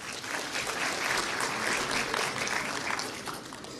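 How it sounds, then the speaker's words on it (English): Audience applause at a formal ceremony in Lüderitz, a steady wash of many hands clapping together, fairly distant and consistent for the full few seconds before fading slightly. "Let us give him another hand of applause."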